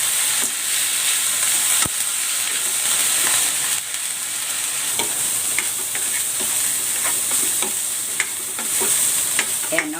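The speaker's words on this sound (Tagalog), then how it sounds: "Isasalang ko na itong ground pork para mag-brown ito ng bahagya." Ground pork browning in a hot pan, with a steady loud sizzle and occasional stirring clicks throughout, no talk.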